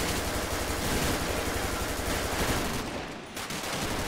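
Rapid gunfire in a GTA 5 police gang-unit mod, dense continuous loud shots through most of the stretch, briefly thinning near the end before resuming.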